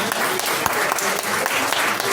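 A room full of people claps steadily for a few seconds after a talk on the novel "La Hija de la Española", a dense, even applause with no voices standing out.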